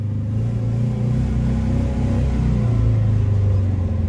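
A red Zaporozhets car sits running in Chernobyl, its engine idling with a steady, close, low rumble and uneven throb, with no voices present.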